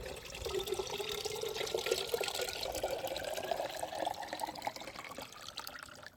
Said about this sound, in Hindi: इस मटके को हम पानी से इस तरह से फुल कर देंगे।